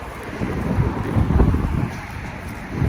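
Strong wind roars steadily across the microphone, a low gusty buffeting that swells briefly in the middle, with no voices.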